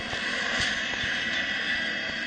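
Fighter aircraft engine from a combat flight video game, a steady loud jet roar that holds level throughout with no speech over it.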